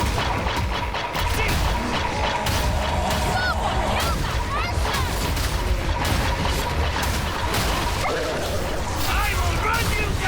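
Constant dense combat noise from Warhammer 40k Darktide with bursts, impacts and crackling blasts layered under game effects, loud and busy throughout with no pause.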